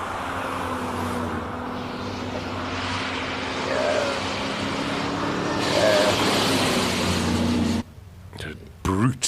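A classic car charges up the Simola hillclimb, its engine a steady, gruff drone that swells toward the end before cutting off abruptly, with faint voices alongside.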